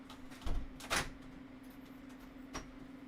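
A cat pushes out through a cat flap at home: two quick knocking clacks close together, then a softer single flap knock a moment later, over quiet room background.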